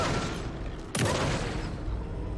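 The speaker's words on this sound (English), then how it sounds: "let me get the shotgun out" A shotgun blasts in the video game Alan Wake 2, one sharp loud report cutting through a dense, rumbling game soundscape, followed by a lingering boom.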